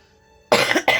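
A single harsh cough bursts out after a quiet moment, followed by a second shorter cough, close and loud.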